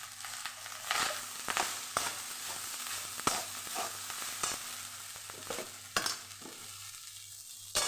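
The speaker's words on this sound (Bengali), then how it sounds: "এবার আমি বানাবো ফ্রাইড রাইস।" Fried rice spiced with cinnamon sizzles softly in a pan while a spatula stirs and scrapes it in repeated strokes, close but fairly quiet, with a low background hum.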